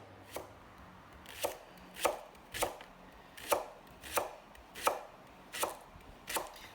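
A knife slicing fresh mushrooms on a cutting board for a mushroom and leek pie, about nine crisp, watery chops in a steady rhythm, close and clear with no talking.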